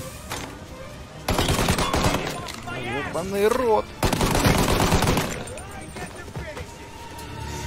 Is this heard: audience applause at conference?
no